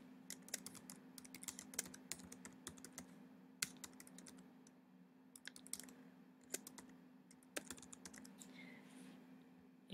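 Fingers type a place name on a computer keyboard in a quiet room: irregular bursts of crisp, close key clicks with short pauses between runs, faint and alone.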